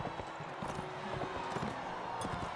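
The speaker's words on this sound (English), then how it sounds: "Try to ride forward, my horse isn't going." Horse hooves in the video game Mount and Blade, a steady clip-clop of riding at moderate loudness, continuous through the short stretch with a faint low rumble of game ambience underneath and no talking.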